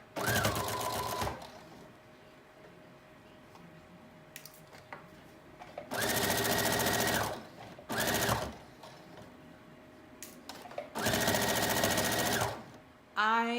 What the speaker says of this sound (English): we're gonna go ahead and stitch in a 5/8 inch straight stitch down each